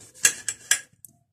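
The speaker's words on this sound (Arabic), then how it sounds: "كده انا قطعت الليمونة بتاعتي لاربع قطع" A knife cuts a lemon into four pieces on a hard surface, making three quick, sharp knocks of the blade striking the board in close succession, followed by faint small clicks.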